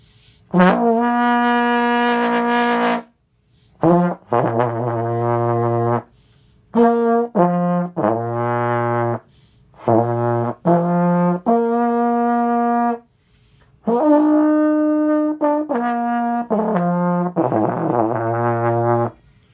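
A trombone plays a series of sustained brassy notes in short phrases, some held long and others clipped, loud and close with brief pauses.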